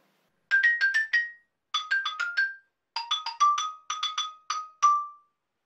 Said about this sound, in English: Here's my xylophone.